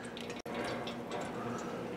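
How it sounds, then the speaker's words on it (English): Lemon juice is poured into a sauce with red and bell pepper. It makes a brief, soft, trickling liquid sound with a momentary break, faint and close. "So I'm going to put some nice lemon juice in there, give it a good acidy flavor."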